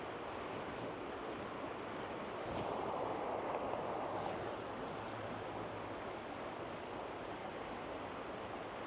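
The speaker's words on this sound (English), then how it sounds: "Just want to take you down to the creek real quickly." Steady rush of a flowing creek beside houses in Vail, Colorado, heard as a broad continuous wash of water with some wind noise on the microphone, with no talking.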